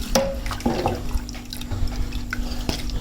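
Water from a mug poured into mash lentils in a cooking pot, a short splashing pour with a few drips, heard up close with no talk.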